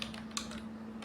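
Keys tapping on a computer keyboard while code is typed, a quick close run of light clicks over a steady electrical hum.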